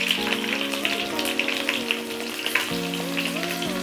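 Mustard seeds and green chillies fry in hot oil, giving a steady crackling sizzle with frequent sharp pops. A tonal hum runs underneath.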